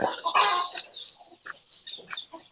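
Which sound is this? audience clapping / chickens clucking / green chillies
chickens clucking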